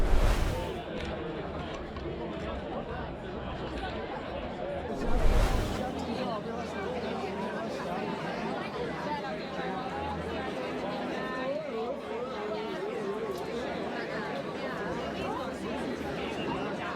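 A gathered crowd of spectators at a football game chats in a dense, continuous babble of many overlapping voices, with brief louder bumps near the start and around the five-second mark.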